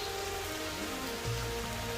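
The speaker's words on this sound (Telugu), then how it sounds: "ఎందుకంటే వర్షం ఒకటి పడుతుంది" Rain falls through dense forest near Amruthadhara waterfall in Maredumilli as a steady, even wash of patter. A low hum runs underneath, with a brief deeper swell midway and no talk.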